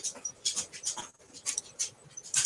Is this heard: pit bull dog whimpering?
yes